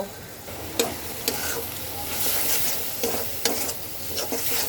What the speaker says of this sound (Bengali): এবার আমি সব কিছু একসাথে সুন্দর করে মিক্স করে কয়েক মিনিট ভাজা ভাজা করব